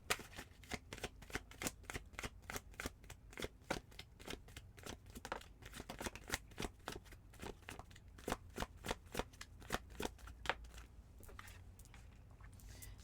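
Tarot deck shuffled by hand, a long run of quick crisp riffling flicks and card slaps in close, steady bursts, quiet and alone without talk.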